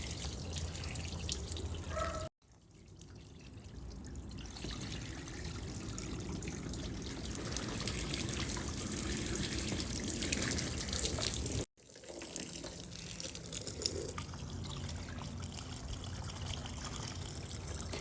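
Water runs and trickles steadily through the panel gaps around the taillights of a DC2 Integra, a continuous close splashing flow broken by two brief cutouts.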